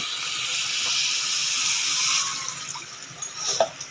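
Water is poured steadily into a cooking pot, a close, loud rushing splash that lasts a couple of seconds and then breaks into irregular gurgles and spatters.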